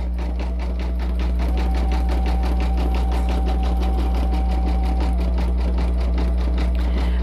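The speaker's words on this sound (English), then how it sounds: "So this is actually going to stitch all of the afro puffs, both sides" An embroidery machine stitches afro-puff designs onto a hooded towel, a fast, even needle chatter over a steady low motor hum that runs continuously and close with no talk.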